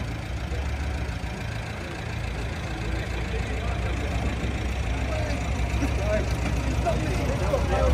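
A low, steady armoured car engine idling quietly in the background, a soft rumble that stays constant throughout under outdoor ambience.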